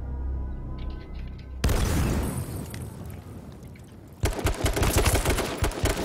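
Bursts of rapid gunfire in the video game H1Z1: King of the Kill crackle and boom, growing louder and denser toward the end, with no talking.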